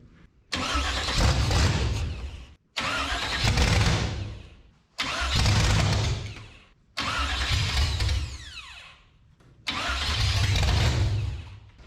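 A 1946 Chevy rat rod, garage built, cranks and catches five times in a row, each time running roughly for a couple of seconds before the ignition cuts out and the engine dies, loud and close with no talking.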